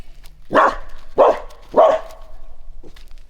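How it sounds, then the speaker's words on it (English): A dog barks three times in quick succession, loud and close, followed by a quieter short yip. "Earl, why are you barking?"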